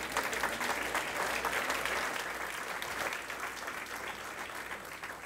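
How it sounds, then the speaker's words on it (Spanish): Worshippers in a church break into applause for the Lord, many hands clapping in a broad steady roar that fades slightly toward the end, heard from a moderate distance. "Den un aplauso al Señor."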